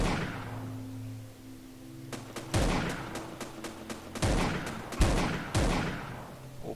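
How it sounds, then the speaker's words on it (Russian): Gunfire at long range in the survival game Next Day: Survival: a string of sharp rifle shots fired standing, each with a booming tail, spaced unevenly over a low steady hum. "На предельной дальности стреляю."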